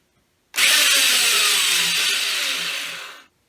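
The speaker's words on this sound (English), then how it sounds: "now the drill stops way sooner than before" Power drill spinning a cylinder hone inside the bore of a 2010 Ford Taurus SHO engine block, a loud, close, continuous whirring grind lasting about three seconds that starts abruptly and tapers off at the end, with no talk.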